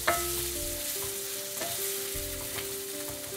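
Potatoes sizzle in a spice mix in a pan for a yogurt potato curry, with a steady close frying hiss and occasional stirring scrapes and clinks, and no voices.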